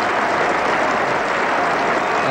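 Broad, steady applause from the crowd at Lord's for a four during the 1982 England v India Test match, a continuous loud clapping wash with no commentary over it.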